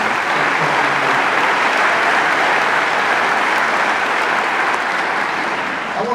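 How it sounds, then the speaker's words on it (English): A political rally crowd in Iowa gives a dense, loud round of applause, steady and unbroken throughout with no talk over it. "Let's give him a round of applause for all that"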